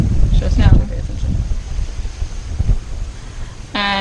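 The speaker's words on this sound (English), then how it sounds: "And it's windy" Gusty wind from Hurricane Irma's rain bands buffets the microphone in a steady rumbling roar, with voices speaking faintly underneath and a brief tonal beep near the end.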